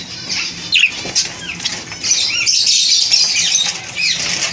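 A parrot flaps its wings nearby after being released, giving bursts of fluttering wingbeats with faint squeaky calls mixed in, no talking.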